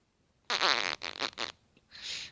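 A short, close fart with a buzzing, sputtering tone broken into a few bursts, followed by a softer trailing puff.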